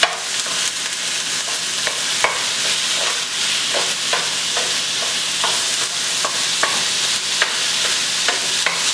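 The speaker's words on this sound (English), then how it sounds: "just break that up and get it sort of well combined with the ginger and garlic that's been cooking on the bottom" A noodle mixture with ginger and garlic is stir-fried in a pan, with a continuous sizzle broken by repeated scraping stirs and utensil clicks at an irregular rhythm, fairly close and moderately loud.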